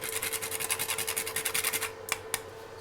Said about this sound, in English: grate some nutmeg